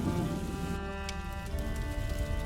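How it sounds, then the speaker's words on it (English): Steady rain falls in the video game A Plague Tale: Innocence as a constant, dense hiss that stays even throughout, with a low droning bed beneath it and no talking. "would you mind if we get out of the rain, please?"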